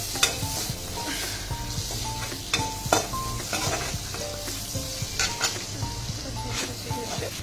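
Onions frying in a hot pan with panch phoron and bay leaf, for paneer butter masala: a steady close sizzle throughout, with occasional light clinks of a spoon stirring against the pan.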